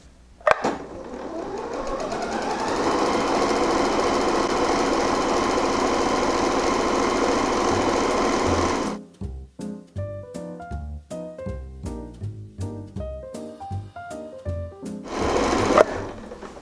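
A sewing machine hums in a continuous fast run, then switches to slower, distinct mechanical stitching thumps in an uneven rhythm, close up.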